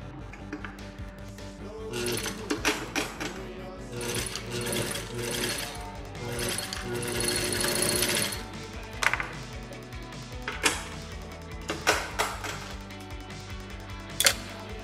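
A sewing machine tack-stitches a nylon strap onto a dad hat, running in loud close bursts of fast mechanical whirring separated by short pauses and handling clicks.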